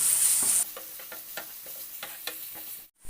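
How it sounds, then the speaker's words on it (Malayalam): Food sautés with salt in a frying pan, with a steady sizzle under repeated scraping stirs of a spoon against the pan, then a brief drop to silence near the end. "അതൊന്ന് നല്ലോണം വാട്ടിയെടുക്കാം"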